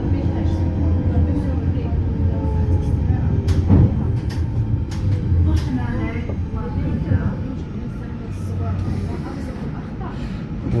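A tram rumbles and hums past nearby in Paris with squealing and clattering, while a person talks over the steady low roar.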